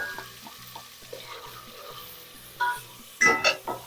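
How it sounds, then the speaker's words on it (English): Dry masala spices fry with onions in a pan over a medium flame for a fish curry, a soft steady sizzle with a few louder bursts of stirring near the end. "Now keep frying the masalas for at least 4 minutes"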